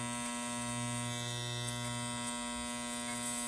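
A modified cordless Andis T-Outliner hair clipper runs steadily with a smooth, constant buzzing hum, close and fairly loud, with no talking.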